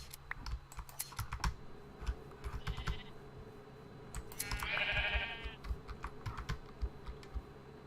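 Blocky sheep in Minecraft bleating twice in quick bursts, close and clear, over a steady patter of computer keyboard typing and clicking that runs throughout.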